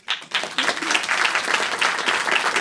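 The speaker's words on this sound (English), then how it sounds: "Join me in a round of applause" Lecture audience giving a round of applause, dense clapping that starts abruptly, swells and holds steady at moderate volume, with no talk over it.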